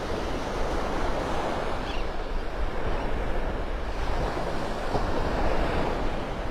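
Steady ocean surf rolling and breaking on the beach at Delnor-Wiggins in North Naples, Florida, a continuous loud wash with wind rumbling across the microphone and gentle swells in intensity.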